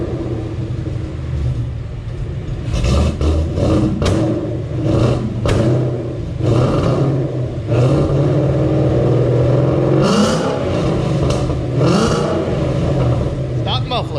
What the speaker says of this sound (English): Let's hear that exhaust real quick.